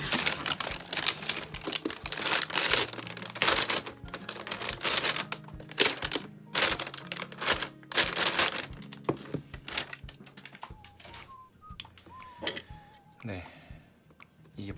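Versa Grip lifting-grip packaging is carefully torn open: dense bursts of crinkling, ripping paper and plastic crackle up close for most of the stretch, easing into quieter rustles near the end with a brief voice.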